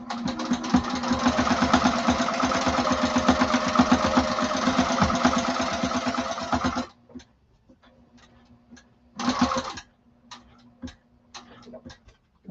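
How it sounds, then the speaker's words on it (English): A sewing machine stitches across a duffle bag's fabric lining, a close rapid mechanical chatter that runs for about seven seconds, then stops, followed by one brief burst of stitching and a few isolated clicks. "I'm going to sew back across."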